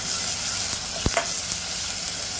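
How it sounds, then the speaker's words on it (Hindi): Steady close sizzling and crackling of ginger-garlic paste and spices frying in a pan, with a faint scrape of stirring partway through. "और मसाले को अच्छे से भूनेंगे"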